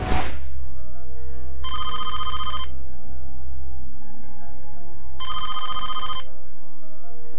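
A telephone bell rings in two long bursts separated by a pause, loud and close over a low steady background hum, with no talking.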